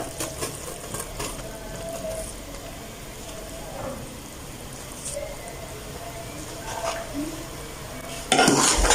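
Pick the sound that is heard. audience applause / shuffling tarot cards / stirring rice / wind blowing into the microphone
stirring rice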